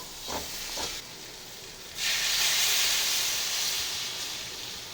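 Water poured into a pan of egg curry with potatoes, setting off a loud, steady hiss and sizzle of steam that swells after two seconds and holds, with a few soft clinks near the start.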